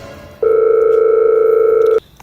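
A telephone dial tone sounds while a phone call is placed: one loud, steady, unbroken tone that starts abruptly, holds for about a second and a half, then cuts off, with no other sound.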